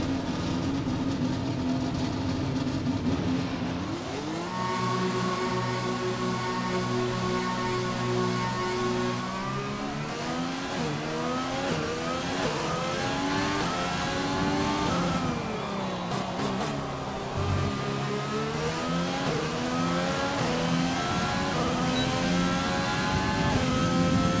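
An F1 2020 race car in the video game during qualifying at the Australian Grand Prix in Melbourne, its high-pitched engine revving and rising through gears, dipping for a corner, then climbing again.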